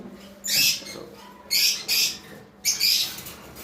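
Small birds give sharp chirps in four quick bursts, close and fairly loud, with quiet pauses between them.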